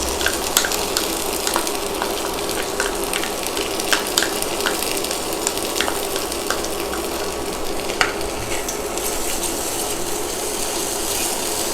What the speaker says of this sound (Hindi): अब इसमें हम डालेंगे प्याज और काजू का पेस्ट